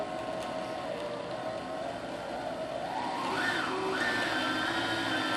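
A Husqvarna Viking Platinum Plus sewing and embroidery machine winds its bobbin with a steady, close mechanical whir. The motor runs on without a break, and its pitch glides upward near the end.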